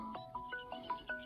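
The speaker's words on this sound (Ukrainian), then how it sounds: "Ще й хтось дзвонить." A phone ringtone sounds while out fishing, a repeating melodic electronic tune in short rising phrases, fairly faint and carried on through the whole stretch.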